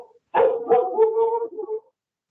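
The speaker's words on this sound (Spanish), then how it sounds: "El perro le contestó." A dog barks and whimpers in a short, close burst of yips and whining bark-like calls lasting over a second, with no talk over it.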